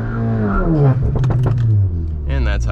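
A VW MK7 GTI engine revs hard in its burnout mode, holding a high, strained drone that climbs and then settles, loud and close, with the pitch sweeping upward before easing back down.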